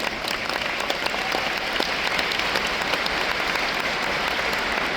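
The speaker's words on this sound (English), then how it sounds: "Let us once again give Carmen a round of applause." A seminar audience in Budapest gives a sustained round of applause, a thick, even wash of clapping hands that holds steady throughout without speech.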